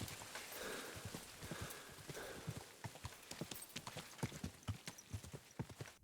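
In Kingdom Come: Deliverance II, a horse's hooves clip-clop at a steady trotting rhythm, the clear close knocks quickening slightly, with no talking.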